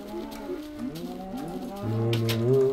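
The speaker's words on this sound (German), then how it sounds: "Mit 4 Weizen machen wir 2 neue Kühe." Cows in the video game Minecraft give a couple of drawn-out moos in close succession, the second deeper and louder, with no talking.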